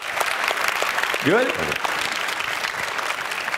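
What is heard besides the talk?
audience applause for a speaker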